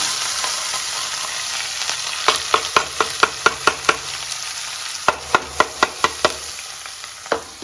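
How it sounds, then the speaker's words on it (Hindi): Onion dropped into hot oil with whole spices in a home kitchen, a steady loud sizzle with a run of sharp spattering pops and crackles, no talking. "यहाँ पे मैंने कुछ खड़े मसाले डाल दिए, ऑयल डाल दिया, और अब मैं ये प्याज का ये डाल दूँ।"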